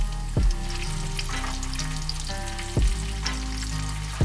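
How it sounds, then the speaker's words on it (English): Loud, continuous sizzling of chicken katsu frying in hot oil close up, a dense crackling hiss with a low background hum and a couple of brief knocks. "You can see this little dough ball is starting to sizzle"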